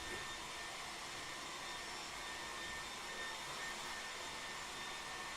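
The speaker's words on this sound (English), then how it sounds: "with that hair dryer going in the background" A steady, loud whooshing hum of a hair dryer running continuously in the background, a constant broadband blowing noise with no pauses.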